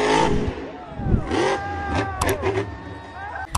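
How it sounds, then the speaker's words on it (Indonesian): A monster truck engine revving in short rising and falling bursts, close and fairly loud, mixed with other vehicle sounds and bits of talk. "Wih, ada mobil truk monster."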